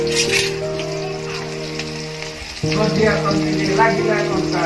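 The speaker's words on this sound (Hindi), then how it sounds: "पियाज डा एबे टिके ब्राउन कलर होला पर्यंत भाजीबा" Onions fry in a pan with a steady sizzle, and the frying grows louder and brighter partway through, close and continuous.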